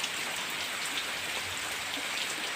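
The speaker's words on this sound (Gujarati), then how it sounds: "આપણે આવી ગયો છે વરસાદ ને વધારે જો ચાલુ છે" Heavy rain pours steadily on a village, a dense, even hiss of drops hitting surfaces with no pauses and no voices.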